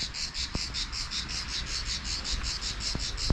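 A cicada calls in a loud, close, rapidly pulsing buzz that keeps a steady rhythm throughout, with a couple of faint clicks and no voices.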